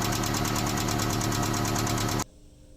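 A neglected Mazda engine idles with a rapid, even ticking from clogged hydraulic lifters, loud and close over a steady mechanical drone, then cuts abruptly to quiet near the end.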